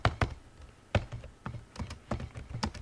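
Fingers type on a computer keyboard in short, irregular bursts of soft close clicks and taps at a quiet level, with no voices.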